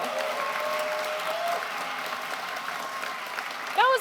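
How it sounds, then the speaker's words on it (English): A convention audience at PAX West gives a round of applause, a fairly soft, steady patter of many hands with some background chatter, before a brief electronic chime near the end. "I think like that deserves a round of applause"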